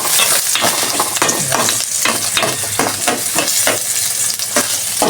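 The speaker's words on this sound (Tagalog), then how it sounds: "Gisa-gisain ko muna ang luya at sibuyas at bawang." Ginger, onion and garlic sauté in hot oil in a thin pan, sizzling loudly and continuously up close while a utensil stirs and scrapes in quick, regular strokes.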